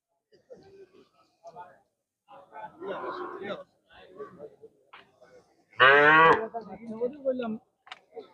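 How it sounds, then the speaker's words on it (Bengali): Cattle at a busy livestock market, one loud close moo rising in the middle, set among overlapping voices and crowd chatter. "প্রচুর গরু উঠছে"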